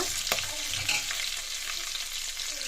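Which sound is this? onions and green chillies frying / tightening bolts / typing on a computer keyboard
onions and green chillies frying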